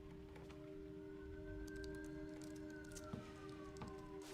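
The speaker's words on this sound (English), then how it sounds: "those are sirens on my end. Real sirens this time." Sirens wail as a sustained, slowly gliding tone over a rainy background hiss, moderately distant and steady, with a couple of brief thumps near the end.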